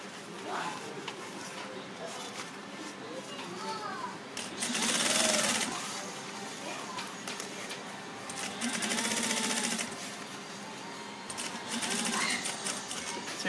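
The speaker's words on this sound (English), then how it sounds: "I just move everything over and I just stitch them down because it's easier." Home sewing machine stitching fabric down while making a sewing project, running in bursts of rapid mechanical whirring with louder spells, close to the microphone and mostly alone.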